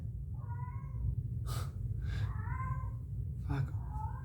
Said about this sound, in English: one of my cats is just repeatedly meowing